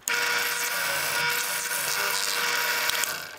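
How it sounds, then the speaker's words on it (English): A steady, high-pitched drill whine grinds through two stacked steel mending plates for about three seconds, close and loud, then cuts off abruptly. "I'm going to drill through both plates at the same time."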